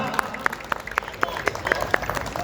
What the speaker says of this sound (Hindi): सभी महिलाएं अपने लिए तालियां बजाएं